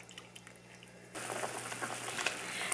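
Quiet at first, then a pot of water starts bubbling and hissing steadily at a rolling boil, close by.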